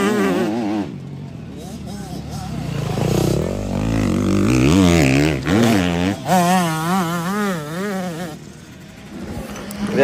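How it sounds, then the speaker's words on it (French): A motocross motorcycle revs on a test track at Castelnau-de-Levis, its engine rising and falling in a wavering, buzzing whine that swells loud and close before backing off, with talk over it. "on va faire un petit peu d'essai là sur la piste avec la moto"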